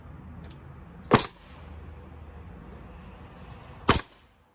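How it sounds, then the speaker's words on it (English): Two sharp, loud pops of a pneumatic nail gun driving nails into roof plywood, spaced about three seconds apart, close by over a low quiet background hum. "I'm going to put my hand over here to keep it away from the end of the nail gun."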